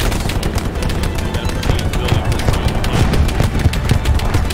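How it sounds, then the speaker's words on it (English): Heavy machine gun fire in the WWII shooter Hell Let Loose, an unbroken clatter of rapid, loud bursts with dense overlapping shots and low booms, close and sustained throughout. "Heavy machine gun fire right on us."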